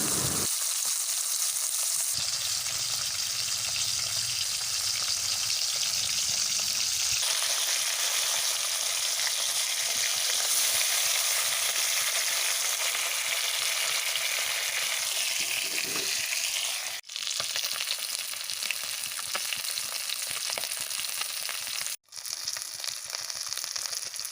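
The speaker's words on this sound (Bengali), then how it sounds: "সরিষার তেলটা গরম হয়ে যেতে মাছগুলোকে এবার পরপর করে দিয়ে দিচ্ছি ভাজার জন্যে" Fish fry in hot mustard oil in a wok, a loud, steady close sizzle and crackle that shifts as pieces are added, with a couple of brief dropouts and no talking.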